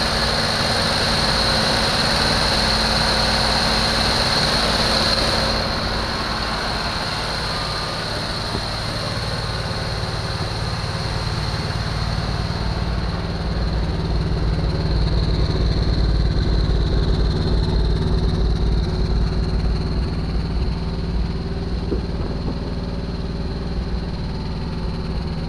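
A 1974 Chevrolet Nova engine, freshly revived and smoking, runs continuously with a rough, steady drone throughout, rising slightly in intensity partway through, with no voices.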